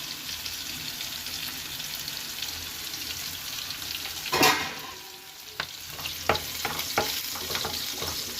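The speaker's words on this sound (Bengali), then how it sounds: "একটু নাড়াচাড়া করে নিই লাল লাল হওয়া পর্যন্ত" Onion, garlic and chillies stir-frying with a little salt in a pan for a Malabar spinach (poi saag) dish: a steady close sizzle, one louder hissing surge, then several distinct spoon scrapes and clicks, with no talking.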